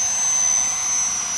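A 3D-printed VTOL RC model airplane hovers down to land, its electric motors giving a steady, high-pitched whine with a constant tonal edge, close and continuous throughout.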